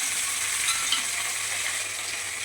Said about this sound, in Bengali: এবার টমেটোটা দিয়ে দিলাম